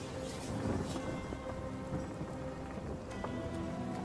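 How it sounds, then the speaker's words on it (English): Steady rain pours in the video game Divinity Original Sin, a dense patter with rumbling undertones that stays constant throughout, with no speech. "It's raining, you see?"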